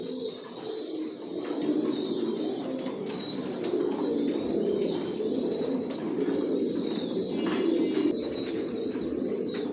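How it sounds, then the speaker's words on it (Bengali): Original Johnson-line racing pigeons cooing continuously in a loft, several birds overlapping in a steady, fairly close chorus of low throaty coos with faint higher chirps above. "সব লংয়ের কবুতর পালি, জনসন লাইনের"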